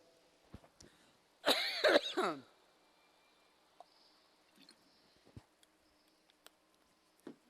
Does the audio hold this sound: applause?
no